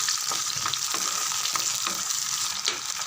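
Small onions and crushed garlic sizzle and crackle in hot oil in a pan, a steady close frying hiss with occasional sharper pops and stirring scrapes, no voices.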